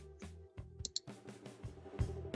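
Sharp mouse clicks on a login button, several quick separate taps at close range with no talk.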